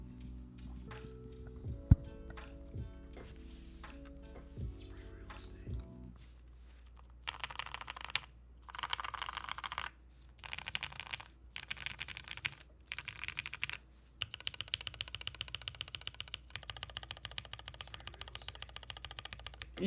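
Modded mechanical keyboard from a custom build, typed in quick bursts of crisp clacks separated by short pauses, sitting over a low steady hum, with some louder thocky strikes near the start.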